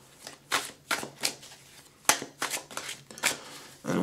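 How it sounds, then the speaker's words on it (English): A tarot deck is shuffled close up, a string of quick papery riffles and soft card slaps arriving in irregular bursts, with no talking. "Let's go ahead and shuffle."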